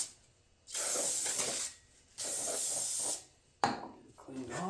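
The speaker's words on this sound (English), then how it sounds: "I'm going to use some brake parts cleaner to get all that greasy goo gone off there" Aerosol brake parts cleaner sprays onto a greasy arcade control panel in three loud hissing bursts, each lasting about a second, with short quiet gaps between them.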